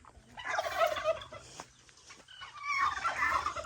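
Harsh, raspy calls from two ducks close by in the rural Philippines, coming in two bursts with a brief pause between them, over a quiet outdoor background.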